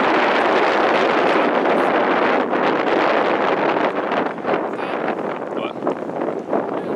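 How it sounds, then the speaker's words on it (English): Strong wind buffets the microphone during an outdoor fishing trip, a steady loud roar that eases slightly toward the end, with faint voices in the background. "with that wind blowing the way it is"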